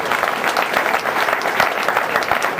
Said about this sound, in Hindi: एक बार जोरदार ताली ऊपर वाले के लिए।